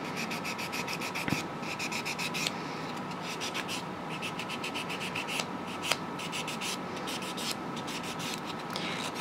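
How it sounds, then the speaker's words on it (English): A nail file rasps across the edges of a silk-wrapped nail in quick, rhythmic back-and-forth strokes, soft and close, with short pauses between runs and no talk. "So let me sand this one really quick, since we're sanding. And all I'm doing is taking off the edges."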